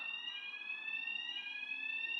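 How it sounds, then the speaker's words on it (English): A fire alarm rings continuously at a steady pitch, without a break, moderately loud and with no talk over it. "Genuinely, there's an alarm."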